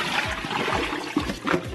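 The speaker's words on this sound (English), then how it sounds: "Now what you want to do is pour that water off." Water poured off oxtails that were cleaned with vinegar and salt, a close, splashing trickle and gurgle that swells and ebbs over a short moment.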